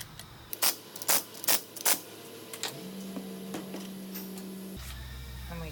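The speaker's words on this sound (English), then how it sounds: "tighten the tie rods in a crossover manner" A run of sharp mechanical clicks in quick bursts as tie rods are tightened on an NPV Series 600 pneumatic cylinder, followed by a steady low hum and then a louder low drone near the end.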